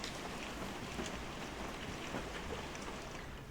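Steady rain falls in a video game scene, a dense soft hiss of drops spread evenly across the stretch, faint and unbroken with no voices.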